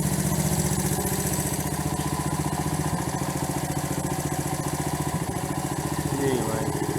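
A 1970 Honda CB100 motorcycle engine runs at a steady idle, giving a continuous, even, close putter that stays loud throughout with a slight rise near the end.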